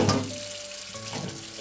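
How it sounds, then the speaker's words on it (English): Eggplants being rinsed under running water from a tap, a brief close splashing rush of water in a sink. "Wash eggplants."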